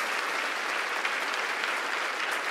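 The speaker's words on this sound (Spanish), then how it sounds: "dale el mejor aplauso de este domingo" A church congregation at a Sunday service applauds, a dense, steady wash of clapping from many hands that holds evenly throughout with no talk over it.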